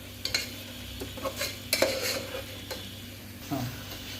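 Mint being stirred into Chettinad mushroom biryani masala in a pan: irregular scrapes and metallic clinks of a spoon against the pan over gentle frying sizzle, close and moderately quiet.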